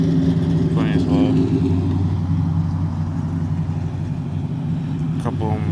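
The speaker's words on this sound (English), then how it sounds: "Couple Mustangs showing up right now, and a Camaro and a Supra launch edition" Ford Mustangs, a Camaro and a Toyota Supra launch edition roll into a Morrisville cars and coffee meet, a low steady engine rumble and idle filling the air with brief higher revving bursts, as someone talks over it.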